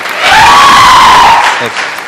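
A brief swell of audience clapping and cheering at a studio show, loud and close, rising quickly and fading after about a second and a half, with voices mixed in.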